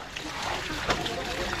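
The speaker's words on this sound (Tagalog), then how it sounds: "Break in ng gripo." A water tap in a yard on a plot of land runs hard during break-in, a brief, dense rush of gushing, splashing water with talking over it.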